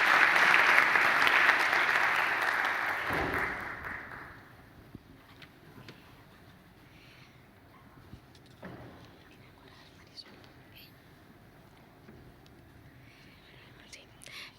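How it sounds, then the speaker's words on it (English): Audience applause at the close of an academic career development workshop, a loud sustained clatter of clapping that fades out after about four seconds into quiet room murmur. "Again, an applause for Elisa Garcia for the time dedicated for this workshop"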